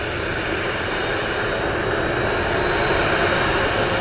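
A Southwest Airlines jet in Canyon Blue livery roars past at an airport, a broad, loud, steady engine rush that swells slightly toward the end, with no voices.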